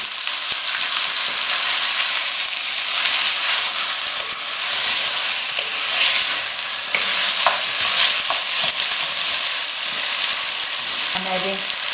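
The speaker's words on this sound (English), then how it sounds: "After ginger and garlic, I'm just adding the lamb and the seasoning." Lamb fries with ginger and garlic paste and seasoning in a hot pot for aloo gosht, a loud, dense, continuous sizzle with occasional stirring scrapes, close up and with no talking.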